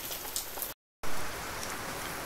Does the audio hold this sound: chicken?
no